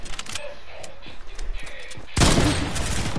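Rapid gunfire in a shooter video game, a string of quick clicky shots followed by a louder, dense burst of fire near the end, close and sharp, with faint voices underneath.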